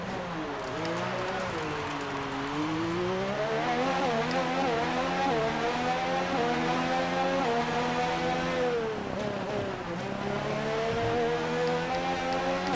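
A Formula 1 car engine in the racing video game F1 2019 screams loud and continuous, its pitch climbing and dropping through gear changes and corners as the car races a long lap.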